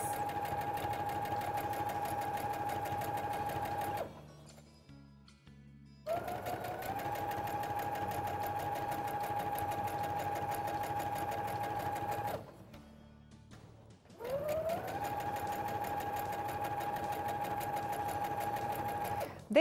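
A sewing machine runs a straight seam along a folded hem of fabric for a ruffled placemat, a steady close whirring hum in three long runs separated by brief pauses.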